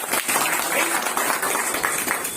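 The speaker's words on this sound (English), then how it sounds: "there must be the bold clapping for this one" A crowd claps for a guest at a gathering, a dense, even patter of applause with faint voices mixed in.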